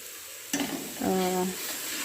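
Kofta curry masala with onion is stirred in a pan: a sharp scrape at the start, then a brief louder sizzle and spatula stirring, close up with no talking.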